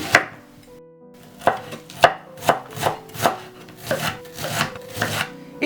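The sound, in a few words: onion being finely chopped with a small hatchet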